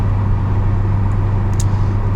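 Steady low drone of a Peugeot 406 car's 138 hp EW10J4 petrol engine with manual gearbox while driving, a constant loud hum inside the cabin with faint brief high ticks, no talk.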